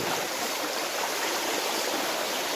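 Water pours steadily from a motor-driven pump outdoors in the Gir forest area, giving a continuous, dense rushing and splashing hiss with no talk.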